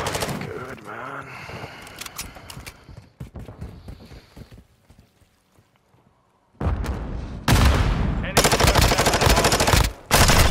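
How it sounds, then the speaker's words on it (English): Heavy automatic gunfire during a ranked Hardpoint match in Modern Warfare 2 (2022), with scattered shots early, a quiet lull, then loud sustained bursts near the end, and a player talking over the first part. "Who the fuck was shooting me?"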